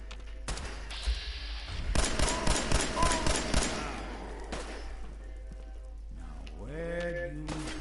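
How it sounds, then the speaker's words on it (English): Bursts of gunfire from companion Nick Valentine in Fallout 4, a loud rapid volley in the middle among scattered shots, with game sounds and a tonal voice-like effect near the end. "Nick, who are you shooting?"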